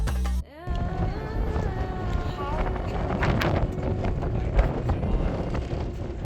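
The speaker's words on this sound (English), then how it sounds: "it was very windy up there." Strong wind gusts buffet the microphone atop a desert mountain in Egypt, a steady loud roar throughout after a brief quieter start, with people talking faintly underneath.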